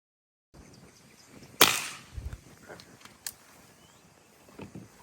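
A single sharp 300 Blackout subsonic gunshot with a 190 grain Hornady Sub X load fired into drywall, loud and close, with a short low thump and faint scattered clatter after it.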